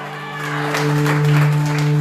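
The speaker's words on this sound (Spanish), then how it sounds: "Denle un aplauso al Señor" Congregation applause during a Spanish-language church service, a steady wash of clapping that builds and holds over a sustained tonal drone, with voices mixed underneath.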